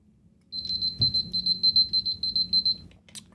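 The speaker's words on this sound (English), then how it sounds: "There's that alarm." An alarm clock goes off with rapid, loud, piercing beeps in quick pulsed bursts, about two seconds of regular bleeping that then stops abruptly, close and clear over a quiet room.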